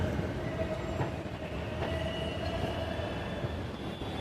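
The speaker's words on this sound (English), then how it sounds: "This is the Banchankri metro station." A metro train at Banashankari metro station in Bangalore rumbles steadily along the track, a continuous mid-level rolling hum with faint wheel clatter and a thin high squeal, and no talking.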